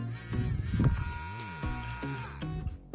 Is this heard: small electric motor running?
yes